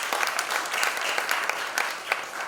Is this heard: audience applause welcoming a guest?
yes